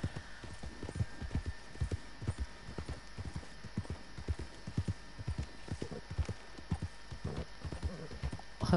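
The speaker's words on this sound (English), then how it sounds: "Quite prestigious for a little blacksmith like that to have an Arabian horse in his stable." An Arabian horse walks in Red Dead Redemption 2, its hooves clip-clopping in a steady, even rhythm, moderately close, over a faint low hum.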